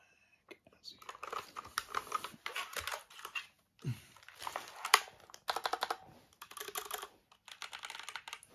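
Typing on an Azio mechanical keyboard for an Apple iMac, bursts of crisp close key clacks in uneven runs separated by brief pauses, loud and alone.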